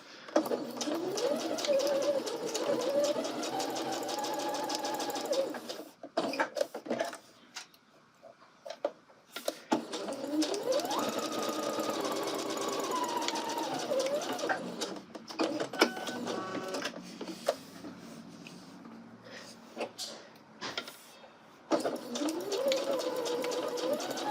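A sewing machine stitches a 5/8-inch seam along the pressed, folded edge of a colorblocked angle coat, running in steady bursts of rapid needle chatter with short pauses between runs, close and loud with no talk.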